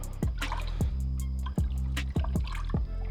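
Coolant bubbling and gurgling out of a hose being squeezed to purge air from a 2016 Dodge Journey's cooling system, with a series of wet pops and drips over a steady low engine hum and no speech.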